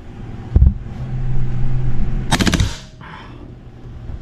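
A KWA HK MP7 airsoft gun fitted with a suppressor fires one short, rapid full-auto burst of clattering shots. The burst is sharp and close, preceded by a single click and a low mechanical hum.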